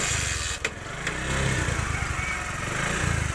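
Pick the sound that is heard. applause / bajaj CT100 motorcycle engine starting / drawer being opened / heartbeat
bajaj CT100 motorcycle engine starting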